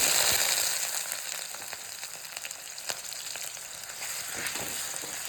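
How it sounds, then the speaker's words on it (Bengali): Potatoes fry in a little mustard oil in a wok, giving a steady, close hiss of sizzling with occasional stirring scrapes and no voices. "হালকা একটু লালচে লালচে আলুটা ভেজে নেবো"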